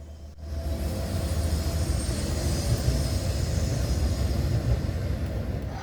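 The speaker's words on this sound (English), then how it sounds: "we hear the sound of diesel-electric trains as they also roll down the tracks" A model diesel-electric train rolls along the tracks at a model railroad show, giving a steady, loud rumbling drone that holds throughout with no voices over it.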